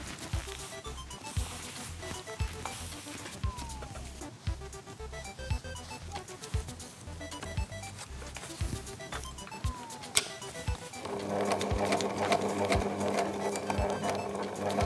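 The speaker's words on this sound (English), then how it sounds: "you need to top stitch the opening of the pockets first, as later on you can't reach them" A sewing machine top stitches the pocket openings on a garment, a close, fast rhythmic chatter of needle strokes with brief pauses, rising into a louder, steadier run near the end.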